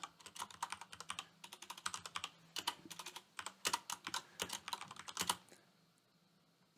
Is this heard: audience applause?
no